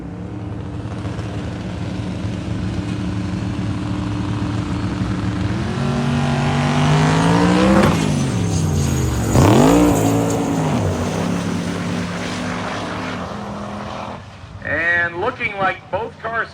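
Radial drag race cars at a Sick Summer 2025 event run down the track, engines roaring and rising in pitch before fading as both slow, with a track announcer talking over the noise.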